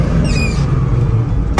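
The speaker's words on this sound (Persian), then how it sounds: "چه صدای موتور نگاه. این موتور V6 اینجوری ها ذاتن اینجوریه." A manual half-century-old American Chevrolet Blazer with a V6 runs with a thick, steady low engine rumble heard up close, with a faint whine over it.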